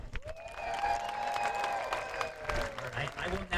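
An audience at an elementary school fifth grade promotion applauds steadily for a few seconds, a dense wash of clapping with some cheering and voices blended in.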